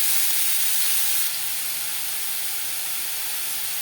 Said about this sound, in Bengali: ফোড়নের সাথে ডাঁটা বেশ ভালো করে মিক্স করে দেব।